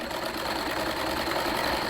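A sewing machine runs continuously as it stitches along a kurti, a steady mechanical whirring and rattling that never pauses over the short stretch.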